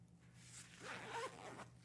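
Zipper on a Nock Co. pen case pulled in one quick close-up run, a bright rasping zip set against a low steady hum, no talking.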